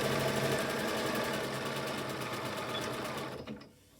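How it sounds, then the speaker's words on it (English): Sewing machine stitching fabric for a face mask, running as a steady fast mechanical whir with a rapid needle chatter, close and continuous for over three seconds before it slows and stops. "I start sewing like maybe 3 inches from the corner."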